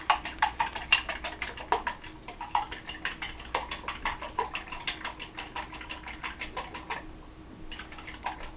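Eggs and black pepper being mixed in a bowl, a fork or whisk tapping and scraping in a quick steady rhythm of light clicks, close and fairly quiet, with no talking.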